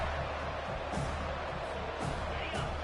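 Stadium crowd cheering at a college football game in the NCAA 25 video game: a steady, dense roar that holds at an even level throughout, with no single voice standing out.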